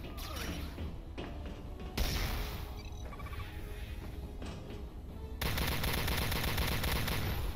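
Rifle gunfire in the Star Trek Elite Force 2 video game at a Klingon base. Loud, sustained rapid bursts of shots run through the clip, growing denser and harsher toward the end.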